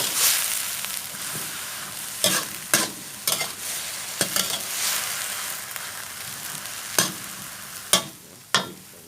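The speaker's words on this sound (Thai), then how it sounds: "ซีอิ๊วขาว นิดนึง ผัดให้เข้ากันเลยจ้าทีนี้" Cabbage and mushrooms stir-fried with light soy sauce in a pan, a soft steady sizzle broken by repeated sharp scrapes and knocks of the spatula, near and without talk.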